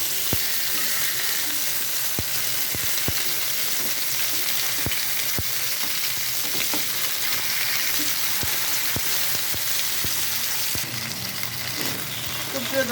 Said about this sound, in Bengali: এভাবে উল্টায় পাল্টায় এটাকে ভালোভাবে ভেজে নিতে হবে